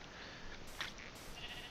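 Sheep in the Minecraft video game bleat in a couple of short, faint calls over steady low background noise, with no talking.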